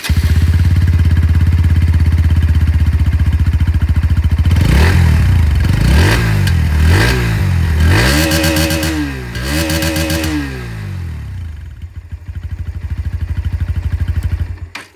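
A 2025 Bajaj Pulsar NS125 ABS motorcycle engine idling steadily, then revved several times in quick rising blips before settling back to a loud close idle.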